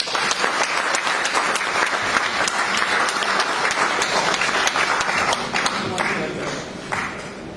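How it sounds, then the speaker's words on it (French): Sustained applause and ovation from a crowd for an honoured guest at an association event, dense, steady clapping that carries on loudly the whole time before easing slightly at the end. "Je vous demande de l'ovation."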